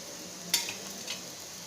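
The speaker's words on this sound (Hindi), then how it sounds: "तो देखिए इस तरीके से मैं पलट पलट कर इसको सेक लूँगी अच्छी तरीके से दोनों साइड से।" Paneer paratha shallow-fries on a hot pan with a steady, close sizzle, broken by a brief scrape and clack as it is turned over.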